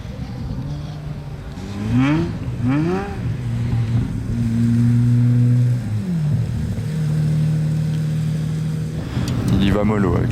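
Pagani and other supercars drifting on snow, engines revving up and down in long sweeping pulls and gear changes, loud and fairly close, while someone talks over them.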